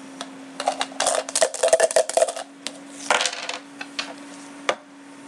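Dice rattle and clatter on a hard surface in a hockey card case break, in quick bursts of clicking and tumbling followed by a shorter second roll and a final click, with no talk.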